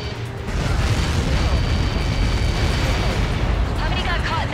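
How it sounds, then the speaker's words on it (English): A missile impact in Ace Combat 7 erupts into a loud, sustained roaring blast that fills the whole span with dense rumbling debris noise, fading slightly near the end. "How many got caught in that explosion?"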